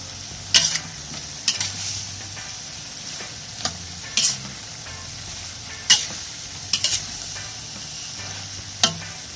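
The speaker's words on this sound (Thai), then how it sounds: "มะระหวานนี่ต้องผัดนานหน่อยเนาะ เราก็ต้องให้เขาสุกนิ่มๆ จริง ๆ" Sweet bitter melon stir-fried in a pan, a quiet background sizzle broken by sharp scraping clinks of a spatula against the pan, arriving in irregular strokes every second or two.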